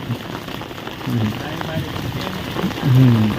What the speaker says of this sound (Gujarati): વળી પાછો વરસાદ હળવે હળવે વધતો જાય છે